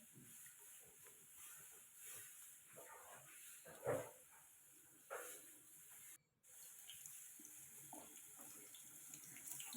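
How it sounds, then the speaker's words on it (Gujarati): Tap water runs steadily into a vessel while poha (flattened rice) is rinsed for bataka poha, a soft continuous splash and hiss with a few brief louder bumps and a short pause. "પૌવાને ધોઈ અને તરત કાઢી લેવાના."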